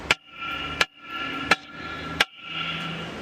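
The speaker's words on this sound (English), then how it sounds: "you want to get a hammer and knock this part of the drum that raise up" A hammer knocks on a truck's brake drum during air brake shoe replacement, four sharp metallic strikes spaced about evenly apart, each followed by a brief ringing decay, loud and close with no talk.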